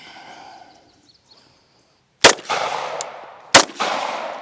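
A .45 Glock pistol is fired twice outdoors, each a loud, sharp crack with a ringing tail, about a second and a half apart, after a short quiet lead-in.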